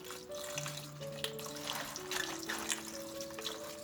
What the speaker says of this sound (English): Make sure you give it a good scrub under the running water.